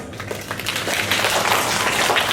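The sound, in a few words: audience applause after a speech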